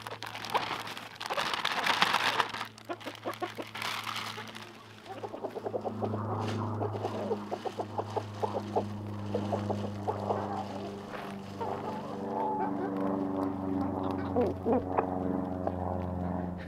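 Several chickens cluck and murmur close by in a busy, continuous chorus, with brief rustling at the start.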